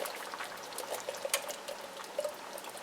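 Canned kidney beans with their juice pour into a soup pot, a soft wet trickle and splashing running faint and close throughout.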